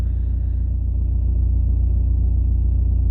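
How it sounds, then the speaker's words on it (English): An Audi A4 1.9 TDI AWX diesel engine idles close by with a steady, even low rumble and a faint rhythmic knock, unchanging throughout with no voices. "the car is only idling"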